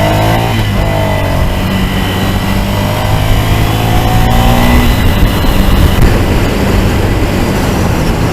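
A Ducati Scrambler motorcycle engine runs while riding, a loud, steady, close drone with harmonics that climb in pitch as it accelerates, under constant wind rush.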